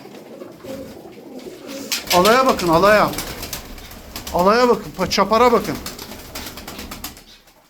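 Pigeons cooing and fluttering in a coop, including a crested white bird with yellow eye rings, as someone speaks in loud bursts over soft bird sounds throughout.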